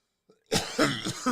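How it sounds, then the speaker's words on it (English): After a brief silence, a close, harsh fit of coughing breaks out in several rough bursts. "I keep thinking I'm done coughing."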